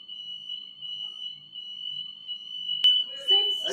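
A home alarm system goes off with a steady, piercing high electronic tone held continuously, then a sharp click and some background clatter and faint voices near the end.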